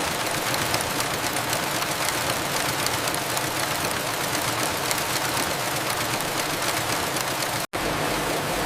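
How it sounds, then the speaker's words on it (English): A wool drawing machine in a processing plant stretches thick sliver into thinner strands, producing a steady, dense mechanical whir and rattle that runs continuously and loudly with no talking, broken only by a brief cut near the end. "Look how the thick sliver is rapidly stretched and elongated,"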